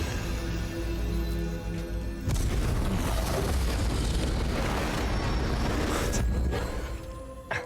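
Exploding bonbon candy going off in the video game Hogwarts Legacy: a sudden loud boom that leaves a sustained roaring, crackling blast, easing off toward the end with a final pop.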